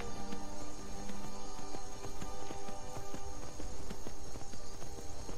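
Horse hooves in Skyrim clip-clop in a steady, brisk rhythm close by, a continuous run of hoofbeats under game ambience.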